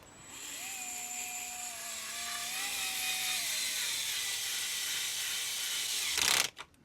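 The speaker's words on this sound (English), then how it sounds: "So when you get the click, you know it's done up, but it's not going to strip it out." A torque-setting driver securing the tub of an RC Toyota FJ, a steady close whirring drone with a wavering pitch that ends in a brief burst of sharp clicks as the clutch slips.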